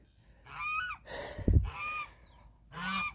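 A flock of geese on a farm near hay bales honk in quick repeated calls, three or four loud clustered honks close by, with a brief low thump in the middle.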